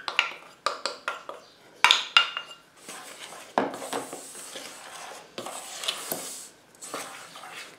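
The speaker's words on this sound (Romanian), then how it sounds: "Amestec aceste două ingrediente." Sugar and cornstarch are stirred together in a small saucepan, giving a run of sharp scraping and clinking strokes of a utensil against the pan, some quick and rhythmic, others longer rubbing swirls, close and alone.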